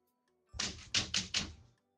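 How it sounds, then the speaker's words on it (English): Brief rapid typing on a keyboard, with four quick, close, thudding keystrokes in a short cluster and quiet before and after. "I can hear you typing all those letters."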